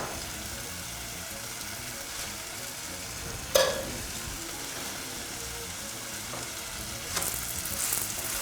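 A chapati fries in oil on a pan, giving a steady soft sizzle with a sharp clatter near the middle and a brighter burst of frying toward the end, with no talking.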